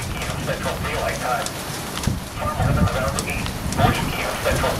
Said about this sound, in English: We got actually rain coming down now.